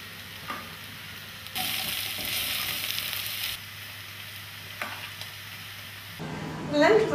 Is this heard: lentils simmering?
yes